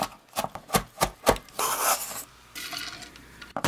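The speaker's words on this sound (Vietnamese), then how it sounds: "Sả thì các bạn cắt phần non. Rồi mình băm nhỏ ra ha." Tender lemongrass minced with a knife on a board, starting with a quick run of rhythmic chopping thuds and moving into rasping, scraping knife strokes, close and clear without talk.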